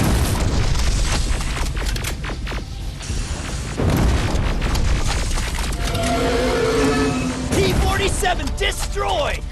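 A T-47 being destroyed in the video game Terminator Resistance gives off a loud, booming explosion amid dense combat noise, with mechanical clatter and further blasts, and voices shouting over the mayhem.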